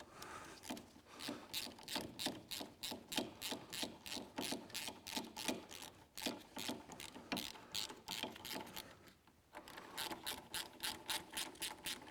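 Ratchet wrench tightening engine clamp bolts during an engine and gearbox refit, rapid rhythmic clicking in bursts of even strokes with a short pause midway, close and quiet.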